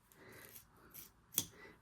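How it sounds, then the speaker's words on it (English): Scissors cut around a vinyl appliqué held in an embroidery hoop, giving several soft, faint snips and rustles, then one sharper, louder snip near the end. "I'm going to pick up and slide my scissors between the ribbon and the vinyl."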